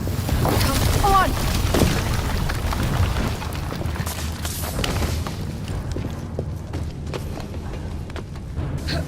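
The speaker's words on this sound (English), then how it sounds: "What was that explosion?" An explosion in Assassin's Creed Syndicate, a loud deep boom that rumbles and slowly fades, with a voice speaking over part of it.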